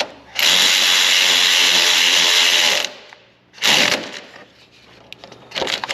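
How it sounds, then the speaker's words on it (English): A cordless ratchet tightens a bolt on a 2013 Chevrolet Silverado 2500 Duramax, a loud, close motor whir lasting about two and a half seconds, then a shorter burst and a few brief trailing spins. "Reverse the direction on our cordless ratchet and tighten her down."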